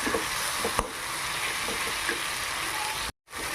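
Chillies sautéing in a pan for a spicy chutney, a steady close sizzle and crackle with a few faint stirring taps, broken by a brief moment of silence near the end.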